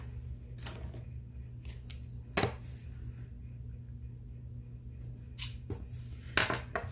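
Scissors trimming excess paper for a planner: a few crisp, separate snips spaced seconds apart, close and fairly quiet against a soft, steady background hum.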